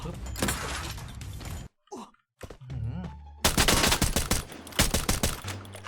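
Rapid bursts from a sling gun in the shooter game Free Fire, loud, dense strings of shots with shattering impacts, broken by a short silent gap and quieter game sounds before the firing resumes hard.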